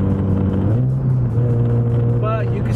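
A 2009 Scion tC engine pulls hard under acceleration with a steady, loud low drone whose pitch climbs slightly, while a person talks over it.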